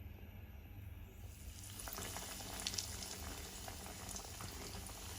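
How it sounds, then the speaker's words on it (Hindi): Chicken bread rolls frying in hot oil over a medium flame make a steady, faint bubbling and crackling that swells slightly after the first second, with no talking. "गरम हो चुका है, हम चिकन ब्रेड रोल को इसमें फ्राई करेंगे।"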